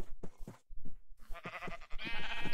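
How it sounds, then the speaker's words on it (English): Sheep bleat in a Minecraft-style game, several short nasal calls in quick succession, close and clear, ending in a longer wavering bleat. "My sheep's fully grown."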